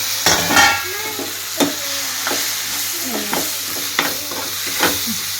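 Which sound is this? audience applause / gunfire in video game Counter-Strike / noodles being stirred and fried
noodles being stirred and fried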